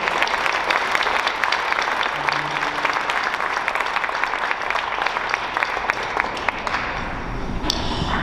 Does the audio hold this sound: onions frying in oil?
no